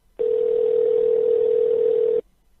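A single steady telephone ring tone on a radio show group call, a continuous electronic hum about two seconds long, clear and alone.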